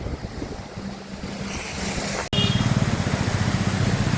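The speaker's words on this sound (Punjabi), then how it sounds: "ਆ ਦੇਖੋ ਗੱਡੀਆਂ ਨਿਕਲ ਰਹੀਆਂ" Cars push through a flooded road in heavy rain in Phagwara, Punjab, giving a steady wash of rushing, splashing water and wind with a low engine hum, broken by a sharp click partway through.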